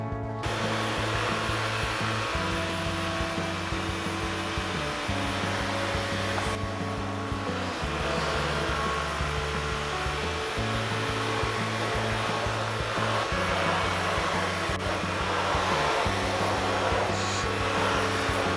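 A Dyson V11 cordless vacuum cleaner runs on medium mode, sucking up flour ground into a carpet, with a steady loud motor whine and low hum whose tone shifts slightly as the head is pushed back and forth, no talking.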